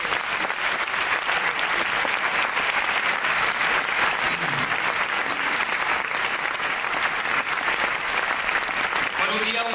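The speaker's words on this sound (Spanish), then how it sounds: "a todos ellos un fuerte aplauso" An audience at a film writers' circle medals gala in 2009 gives a strong, sustained round of applause, a thick continuous clatter of clapping across the hall for about ten seconds.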